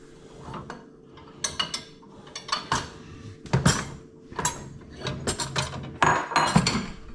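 Metal cutlery clinks and rattles as pieces are dropped into a dishwasher basket in a home kitchen, a series of sharp, close clattering bursts in an irregular rhythm with no talking.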